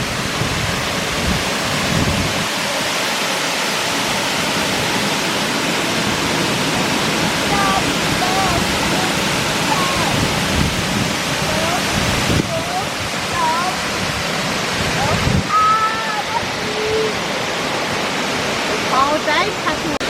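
A strong second waterfall in the Kuranda rainforest, Queensland, pours with a continuous heavy roar that fills the whole clip, with brief bird chirps and faint voices behind it.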